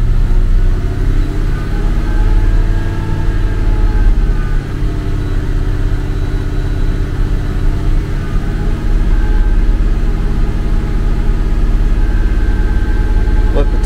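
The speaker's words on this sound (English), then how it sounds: "Increase engine speed to 2000 RPM and hold there until the countdown reaches zero." A car engine held steady at about 2000 RPM during an alternator test, a continuous mid-pitched engine drone with faint harmonic whine, loud and unbroken throughout.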